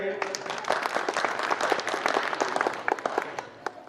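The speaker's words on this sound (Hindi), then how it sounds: "तो इनके लिए ताली बजाएंगे" A crowd claps and applauds steadily for a few seconds, with voices talking and calling out over the clapping.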